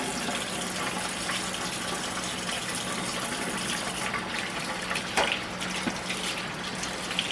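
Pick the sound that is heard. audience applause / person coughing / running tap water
running tap water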